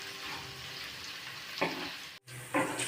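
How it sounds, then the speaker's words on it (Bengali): Carrots, capsicum and beans fry in a pan with a steady hiss, broken by a few brief stirring scrapes and a short dropout near the end. "আমার গাজর, ক্যাপসিকাম এবং বিনস ভাজা হয়ে গেছে।"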